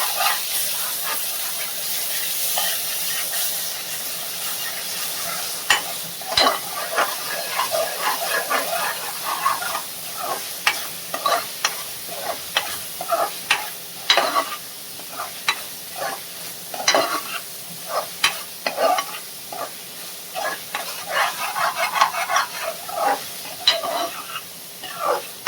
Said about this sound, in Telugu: ఒకసారి అయితే మిక్స్ చేసేసుకుందాం.